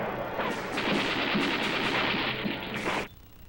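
Gunfire during an attack, a dense, continuous burst of rapid shots and blasts that runs loud for about three seconds before cutting off.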